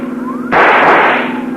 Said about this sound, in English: See if you can use that rifle, Dollar.